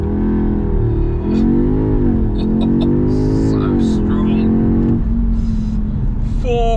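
A new Audi S3 launches under launch control from a held 4,000 RPM, the engine note climbing steadily through several gears with a shift drop near the end, loud and close throughout.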